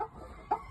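A Shamo game bird gives a couple of short, low clucks close by, the second slightly louder, in a quiet setting.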